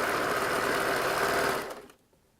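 A sewing machine stitching fold-over elastic onto doll underwear, a rapid, even mechanical whirr of needle strokes running close and steady for about a second and a half before winding down and stopping.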